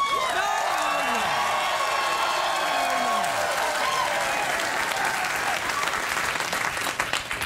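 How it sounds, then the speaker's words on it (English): Studio audience on a late-night talk show breaks into sustained applause with scattered whoops, a dense, steady roar of clapping that carries on for several seconds with voices underneath. "I can't believe they gave you a round of applause."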